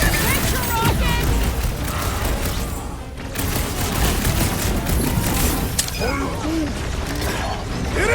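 Rocket firing his blasters in a Guardians of the Galaxy video game, dense bursts of energy shots and booms layered over creaking mechanical clatter, loud and continuous, with battle chatter mixed in.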